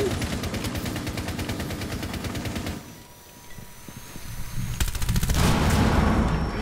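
Rapid automatic gunfire in Rainbow Six Siege, shooting through a wall. A fast sustained burst is followed by a brief lull, then another loud rattling burst, close and dense.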